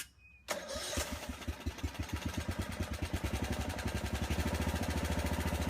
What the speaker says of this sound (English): I am now going to go ahead and crank the machine